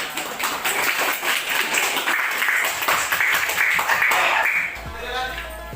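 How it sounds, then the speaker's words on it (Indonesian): A classroom of madrasa junior high students claps together in steady, dense applause for about five seconds before it fades out, with voices mixed into the crowd noise. "Tepuk tangannya semuanya."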